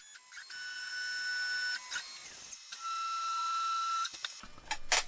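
CNC router with a smaller cutter machining a solid surface sign, giving high steady whines in two long passes separated by brief pauses and small clicks, moderately loud and close.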